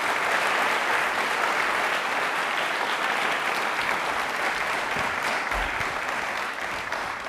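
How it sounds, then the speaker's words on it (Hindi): A studio audience at a televised Rajasthani general-knowledge quiz show claps loudly for an arriving guest, a thick continuous roar of applause that holds steady for several seconds before easing slightly. "प्लीज जोरदार तालियां हो जाए इनके लिए।"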